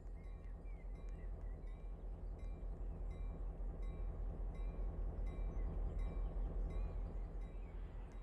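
Rolling stock in a train video game using the older sound set, with a steady rumble and regular rhythmic wheel clatter that stays even and continuous throughout.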